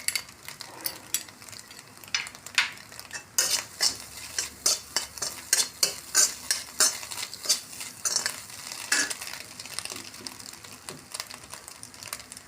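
A spoon stirs egg podimas in a pan, scraping in a quick, regular rhythm of sharp strokes over a light sizzle, up close with no talking.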